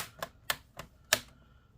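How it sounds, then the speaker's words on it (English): Plastic case clips of a Lenovo ThinkPad Edge E420 laptop snap into place as it is pressed shut, four sharp close clicks in quick uneven succession, with no talk. "we're gonna now clip all of this back into place"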